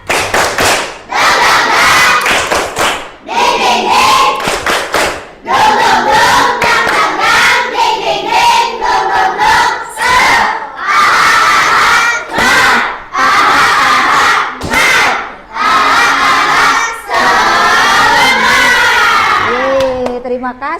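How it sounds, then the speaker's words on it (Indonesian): A group does the tepuk semangat clapping chant in a teacher-training class: loud, energetic shouted chanting with hand claps, coming in repeated bursts separated by brief pauses. "kita tepuk semangat dulu"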